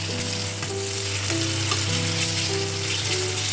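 Rehydrated dried mushrooms and chopped onion fry in oil in a pan, a steady close sizzle with soft crackling and occasional stirring, no voices.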